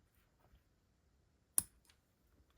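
A single sharp snip of scissors cutting a strand of crochet yarn, one quick click standing alone in a quiet room, with a faint softer tick just after.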